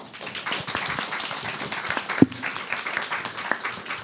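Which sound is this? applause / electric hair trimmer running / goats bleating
applause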